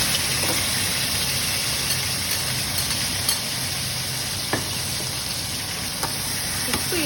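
Chopped onions with ginger garlic paste fry in a pan, giving a steady, close sizzle that runs unbroken, with a few faint clicks and no voices.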